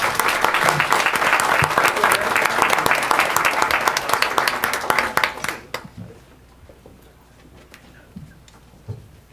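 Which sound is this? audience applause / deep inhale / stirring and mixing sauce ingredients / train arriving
audience applause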